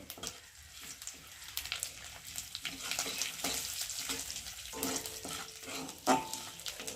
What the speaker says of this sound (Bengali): আর এখন আমি তেজপাতা আর একটু গোটা জিরে দেব দেখুন ওটাকে ভালো করে ভেজে নেব